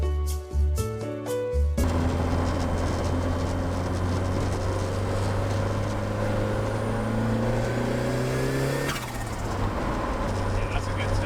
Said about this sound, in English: Yeah, that's a good turbo, isn't it? You wouldn't expect that from a little KA.